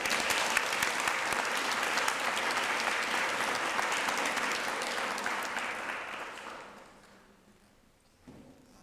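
An audience applauds at a Citizens of the Year ceremony, a full, sustained clapping that holds steady before fading away near the end, followed by a brief knock.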